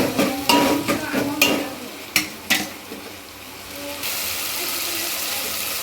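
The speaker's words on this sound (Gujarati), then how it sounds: "સારી રીતે મિક્સ કરી લઈશું." Pasta is stirred with salt and spices in a hot pan, a spoon scraping and clattering in several sharp strokes over a sizzle, then settling into a steady hiss.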